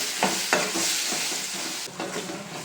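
Tomatoes fry with salt in a pan for a tomato chutney. A spoon stirs and scrapes in a few strokes over a continuous close sizzle, with no voices.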